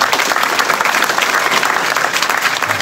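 Middle school students and guests at a sports-spirit gathering applaud loudly for an inclusion sports league for people with disabilities, with dense, sustained clapping from a large room that stays strong throughout.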